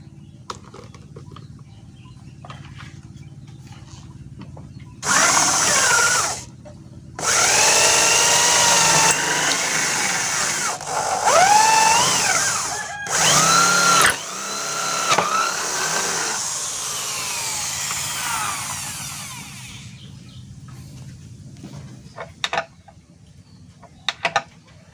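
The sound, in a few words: bolting a sliding table saw from underneath with power tool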